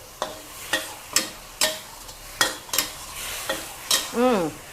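A spatula stir-fries tofu and minced pork with basil in sauce over medium heat, making sharp, regular scrapes and clacks against the pan about every half second over a soft sizzle, close and clear with no talk.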